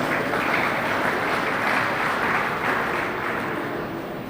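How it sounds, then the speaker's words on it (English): A hall audience at a business summit claps in a dense, continuous round of applause, loud and even, slowly tapering toward the end. "can we give him a round of applause?"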